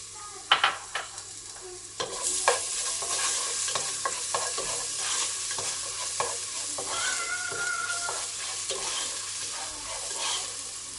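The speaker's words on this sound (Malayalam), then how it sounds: "അത് ചൂടായി വരുമ്പം അതിലേക്ക് നമുക്ക് 2 സ്പൂൺ വെളുത്തുള്ളി ചതച്ചത്" Crushed garlic frying in hot oil for fried rice, with a steady bright sizzle broken by repeated spatula scrapes and stirs, close up and loud throughout, no voices.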